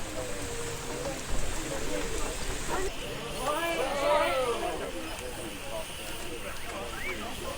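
Steady rain patters around a steam launch on a lake, a dense, even hiss with spattering drops and a faint murmur of voices in the background.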